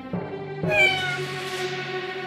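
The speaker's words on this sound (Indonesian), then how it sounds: "mereka mendengar kucing mengeong" A cat meows twice, a short call followed by a longer, drawn-out meow, close and clear with no talking.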